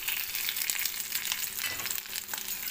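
Onions fry in oil with ginger, green chillies and curry leaves, a dense continuous sizzle with crackling close up and no speech.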